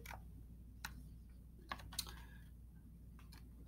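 Typing on a computer keyboard, sparse, light key clicks with a few sharper taps, close and fairly quiet over a low steady hum.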